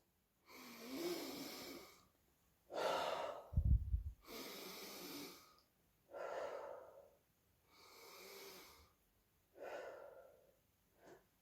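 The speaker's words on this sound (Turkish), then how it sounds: "Burnumuzdan nefes alıp ağzımızdan veriyoruz." Slow breathing exercise for young children, in through the nose and out through the mouth: six or so soft, airy breaths in a steady rhythm with pauses between, close and clear, with a brief low thump in the middle.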